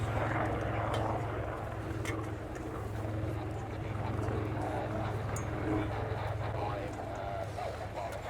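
A Royal Navy Wildcat HMA.2 helicopter flies a display at the RIAT 2024 air show, its steady rotor and engine roar filling the air while an announcer speaks over the public address.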